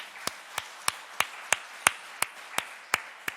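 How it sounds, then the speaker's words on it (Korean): In a church, a single clear clapping pattern is heard as a slow, even run of about ten crisp claps spaced roughly a third of a second apart, close and distinct, with no broad crowd applause under them. "우리 한번 축복의 박수 한번 해주시기 바랍니다."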